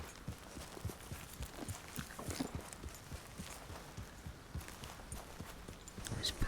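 Horse hooves clip-clop at a steady walking rhythm in Red Dead Redemption 2, quiet and close, with faint ambient game sound underneath.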